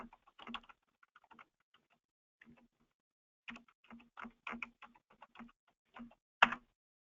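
Keystrokes on a computer keyboard while logging in, quiet and close, coming in short irregular bursts separated by pauses.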